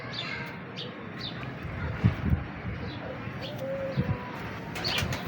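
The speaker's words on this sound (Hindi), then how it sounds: "तो ये जिस भाई के कबूतर हैं ना, उनका भी आपको दिखाते हैं इंशाल्लाह" Pigeons coo nearby in soft, repeated low murmurs, mixed with occasional chirps and a brief flutter of wings, with a few louder knocks in between.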